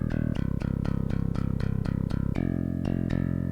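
An Impact Studio Nuclear Bass plays a raw, unprocessed DI tone with no plugins: a string of evenly spaced, punchy low notes, then a held note with a couple of restrikes, close and dry.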